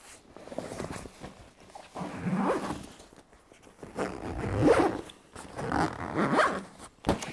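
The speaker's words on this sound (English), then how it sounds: "And you zip it right up." A zipper on a steel-framed travel bag is pulled shut in several long, raspy strokes separated by short pauses, loud and close with no talking.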